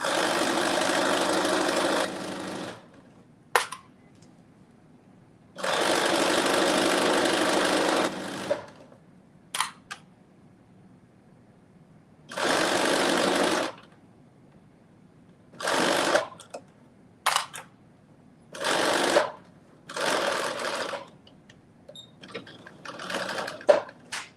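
A sewing machine stitching a sleeve seam on a Simplicity 9825 garment, running in a few long steady bursts of several seconds each, then a series of shorter stop-start runs, close and clear with no talking.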